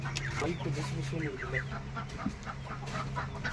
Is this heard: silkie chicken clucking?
yes